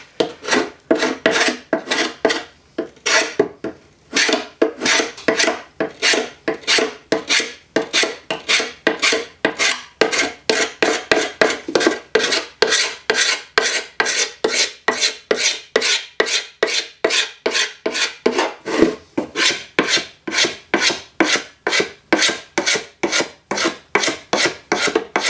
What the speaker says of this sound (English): just ripping the stain right off the surface